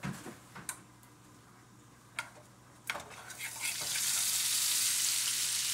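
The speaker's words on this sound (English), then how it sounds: "That is my mushroom saute mix right there" A mushroom sauté mix in a pan gives a few scattered clanks and stirs at first, then the sizzle swells into a loud, steady hiss that fills the last seconds.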